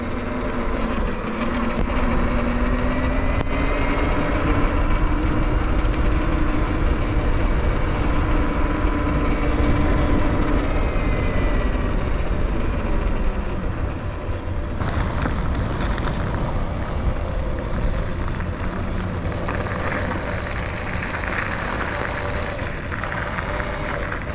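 A Talaria Sting R MX4 electric dirt bike is ridden, with constant loud wind roar buffeting throughout and a faint, shifting motor whine underneath, and no talking.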